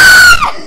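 A loud, shrill scream from a character in the video game Magia Record, a single high cry that holds, then bends downward and fades within a second.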